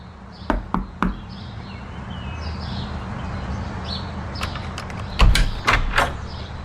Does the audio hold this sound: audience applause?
no